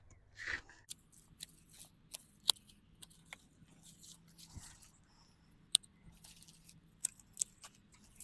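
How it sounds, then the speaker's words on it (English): Hand pruners snip the tops off potato plants outdoors, heard as a series of sharp, irregular clicks and crisp cuts over faint rustling of foliage. "I'm going to cut the tops off of the remaining plants"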